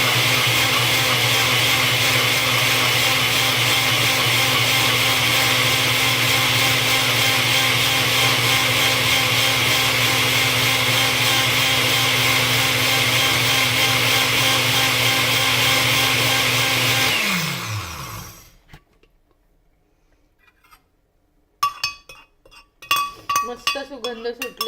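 Mixer grinder blending roasted spices with a little water into paste for a Malvani clam curry: a loud, steady motor drone for about seventeen seconds that winds down and stops, followed by a few close clinks and knocks of the jar.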